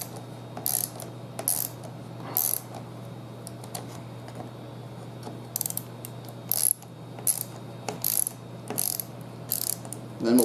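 Ratcheting hand wrench snugging up a part while reassembling a welder's grinder after a brush change, giving short bursts of quick metallic clicks separated by pauses over a steady low hum, close and moderately loud.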